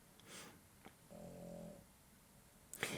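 A dog sleeping nearby snores in a quiet room, one soft drawn-out rumbling breath in the middle with faint snorts before it and a sharper snuffle at the end, all fairly low in level.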